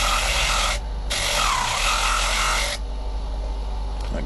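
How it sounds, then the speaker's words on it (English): A wire brush scrubs a motorcycle wheel from an XJR 1300 strip-down, giving two harsh abrasive scraping bursts, a short one and then a longer one, close to the microphone over a quieter workshop background. "It's just a wire brush. Just cleans the wheel."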